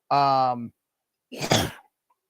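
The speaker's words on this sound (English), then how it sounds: "I had to clear my throat." Someone clears their throat with a short voiced rasp, then a second harsher, breathy clearing follows after a pause.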